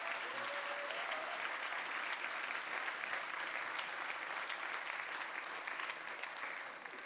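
Steady audience applause at a science communication competition final, dense and even from start to finish with no pauses, sustained clapping filling a large hall and tapering only slightly near the end.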